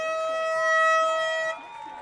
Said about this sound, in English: Got the air horn to capitalize and celebrate that touchdown as Flores was able to bulldoze his way